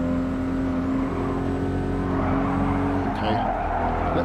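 A racing car's engine in the video game Gran Turismo Sport, a steady loud droning hum held at constant revs for a few seconds near the Maggiore Bridge, with a brief shift near the end.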